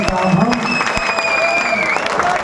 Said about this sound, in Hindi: आप यदि सब सहमत हो तो दोनों हाथ ऊपर उठाकर तालियां बजा दीजिए।